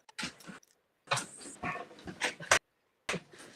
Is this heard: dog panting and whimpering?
yes